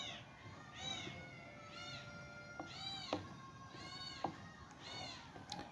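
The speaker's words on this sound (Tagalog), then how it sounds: "Ingay po ng mga pusa," Several cats and kittens meow repeatedly at close range over a low, steady background rumble, with small knocks in between.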